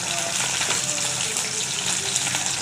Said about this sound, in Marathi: छान तडतडू द्यायचे, हिंग टाकून घ्यायचे